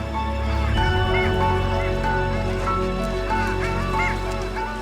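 A flock of long-tailed ducks calls continuously with nasal, honking yodels in spring in Scotland, several birds overlapping at moderate distance over a low background hum.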